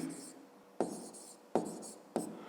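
Numbers being written by hand during a fifth-grade column addition exercise, with three sharp scratchy pen or chalk strokes, each one fading off, plus a faint murmur at the start.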